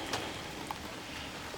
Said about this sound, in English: If not for the rain, it'd be a nice day to work.